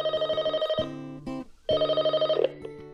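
An old-style telephone bell rings for an incoming call in two long, loud bursts of rapid trilling, separated by a short pause, with nothing else heard.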